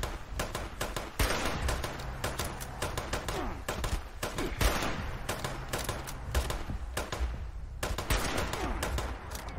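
Gunfire in a game set in Appalachia: rapid bursts of shots with repeated loud cracks and a sustained barrage for nearly ten seconds, close and dense.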